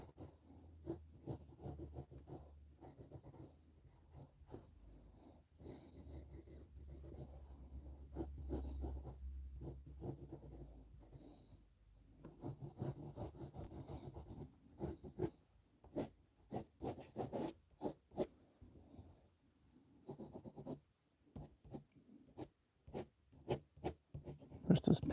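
Graphite pencil shading and sketching on paper, drawing folds and creases of a jacket, with a steady rasp of strokes and scratchy bursts, close and fairly quiet, no talking.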